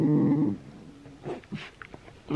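Dachshunds grumbling and whimpering at night: a loud, close low grumble opens, followed by quieter soft whimpers and small whines, then another grumble at the end.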